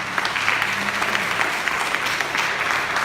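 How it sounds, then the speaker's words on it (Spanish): A church congregation claps for the Lord during a Spanish-language service, a steady dense wash of many hands filling the whole moment without a break. "¿Alguien le puede dar palmas al Señor esta tarde?"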